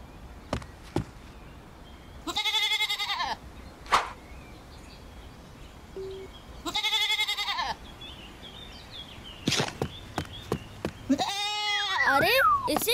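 Goats bleating during Bakra Eid, several loud, wavering cries heard up close in separate bursts, with people talking and other background noises in between.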